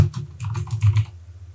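Quick burst of typing on a computer keyboard while entering a name, about a dozen close, crisp key clicks in rapid succession, then silence.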